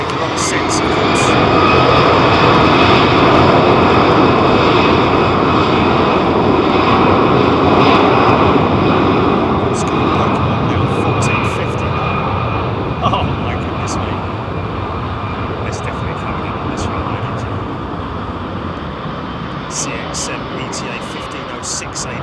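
A jet airliner roars close by at London Heathrow Airport, a broad, steady engine rumble filling the whole stretch and easing only slightly toward the end.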